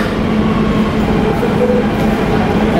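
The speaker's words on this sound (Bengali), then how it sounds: "এখনও টাইম শেষ হয়নি অথচ ট্রেন চলে আসছে।" A train arrives at a station, a loud continuous rumble and rolling roar close by that holds steady throughout without any talk.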